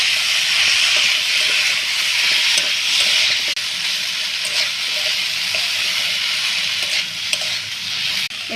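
Boiled, squeezed soybeans tossed into a hot pan and stirred, giving a steady loud hiss and sizzle throughout with faint scraping under it.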